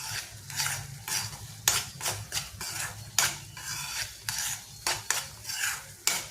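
Onions frying with turmeric in a pan are stirred with a metal spoon, giving repeated scraping and clinking strokes in an uneven rhythm over a soft sizzle, close and fairly loud, with no speech.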